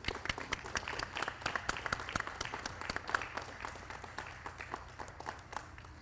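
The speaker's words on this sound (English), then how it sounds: "And another round of applause for Team Beaudry." A crowd at a junior women's curling championship applauds with many distinct, sharp claps in an irregular, moderately paced patter, fairly quiet and steady across several seconds.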